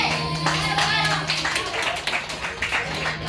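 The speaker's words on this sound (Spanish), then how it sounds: "Los aplausos." Guests clap at a quinceañera celebration, brisk applause close by under music, with a voice speaking over it.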